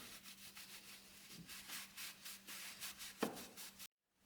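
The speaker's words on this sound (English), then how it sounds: "wipe it down with a little bit of brake clean on a rag" A rag soaked with brake cleaner wipes a metal part during an Infiniti Q50 wheel bearing job, giving quiet, rhythmic rubbing strokes close by, then a sudden cut to silence near the end.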